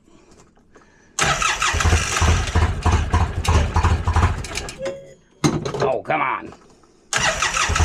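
A car engine turns over with a loud, rough churning that catches briefly, stalls, then resumes in several bursts of cranking with short silent gaps between them; someone speaks briefly.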